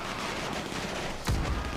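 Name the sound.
gunfire in a video game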